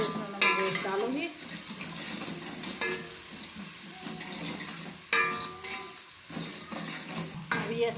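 A paste of ground garlic, ginger and coriander fries in a pot, with soft sizzling, spoon scrapes and clinks of stirring, close by and without talk.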